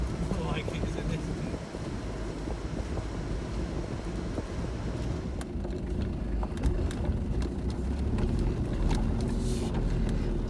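A car rolls slowly down a rough green lane in North Wales in first gear, its low engine rumble steady under bumps and rattles, with wind buffeting the microphone throughout.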